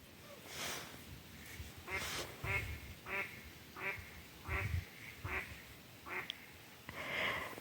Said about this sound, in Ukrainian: Сполохали ми качуки